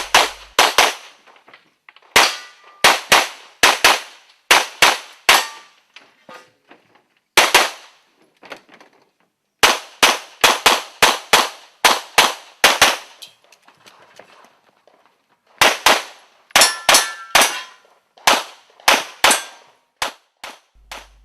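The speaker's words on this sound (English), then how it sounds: "Next up is Dave Savigny with his Glock." Glock pistol gunshots ring out on an IPSC World Shoot stage, sharp loud cracks fired in rapid bursts and doubles, separated by short pauses as the shooter moves between target arrays.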